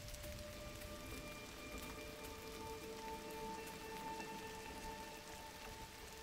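Steady rain patters across the soundscape of the video game GRIS, a soft continuous hiss of drops with faint tonal lines running beneath, with no voices throughout.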